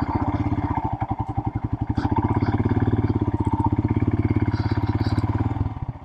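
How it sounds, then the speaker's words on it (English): A modified Royal Enfield Himalayan motorcycle rides along with its single-cylinder engine thumping in a steady, rapid pulse, close and fairly loud, easing off briefly before settling into an even cruise. "We're going to drive down here and see what we can learn"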